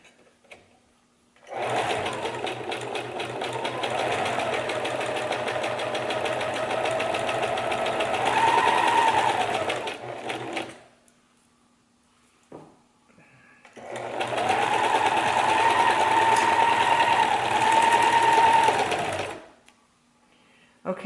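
A serger sewing machine set for a rolled hem with a longer stitch length runs in two sustained bursts of steady, fast mechanical whirring, separated by a short pause, loud and close.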